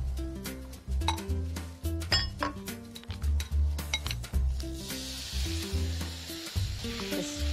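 Sauce marinade ingredients melt in a hot pan with a continuous sizzle, accompanied by occasional clinks of utensils against cookware.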